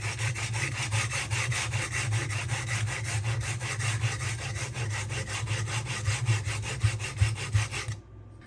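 A knife blade is drawn repeatedly across a Sharpworx utility sharpener, making a continuous close rasping scrape with a fast back-and-forth rhythm. It stops abruptly near the end, with no voices.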